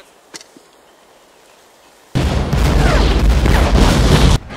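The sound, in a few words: artillery fire in video game Hell Let Loose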